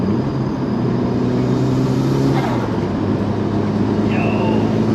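A Mitsubishi RVR's turbocharged engine drones loudly and steadily, its tone rising and falling as it drives fast, heard close from inside.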